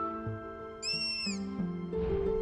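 Striped owl calling in Atlantic Forest: a single clear whistled call with a falling tone, heard fairly close over a steady tonal background of other birds and insects.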